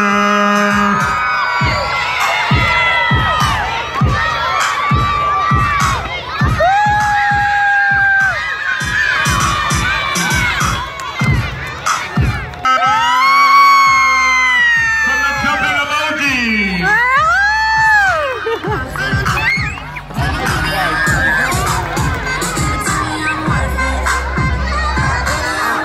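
Children cheer, shout and whoop loudly as a crowd at a jump rope competition, in repeated surging bursts with piercing high cries. Voices call out through the noise.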